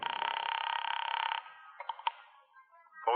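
A telephone rings with a steady electronic trill lasting over a second, followed by faint clicks and rustling and then a brief rising tone at the end, heard in an old radio detective drama.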